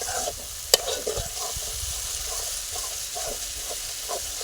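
Spices and dry chilli powder with a pinch of sugar are stirred in a pan for Bengali fish curry, a close, continuous sizzle with scraping strokes and one sharp clink, no talk.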